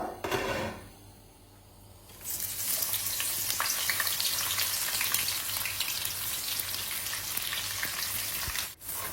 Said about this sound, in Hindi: एक वोक में मैंने थोड़ा सा ऑयल ली हूँ और जैसे ही ये ऑयल गर्म हो गया ना, तो फिर हम लोग ने जो एक मीडियम साइज़ की प्याज को थिनली स्लाइस करके रखे थे